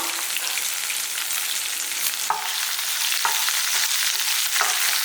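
Fresh garlic cloves frying in a pan for horse gram chutney, a loud, dense hiss of sizzling oil heard up close with a few soft stirring knocks, no talking.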